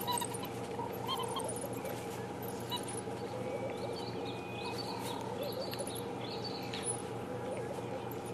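High, twittering whimpers from several African wild dog pups chatter excitedly over a steady low hum, almost bird-like, with faint chirps scattered throughout.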